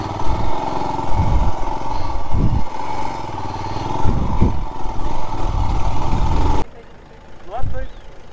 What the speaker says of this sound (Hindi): तो अभी हमारी बाइक चली है घर से यहाँ तक